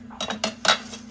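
A few quick metallic clinks and clatters of a lid set onto a pot of boiling kesari bath with carrot juice, close and sharp, over a faint low hum.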